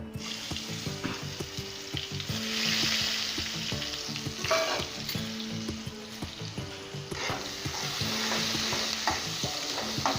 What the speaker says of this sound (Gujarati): કાંદા બદામી થાય ને ત્યાં લગી સાતડવાના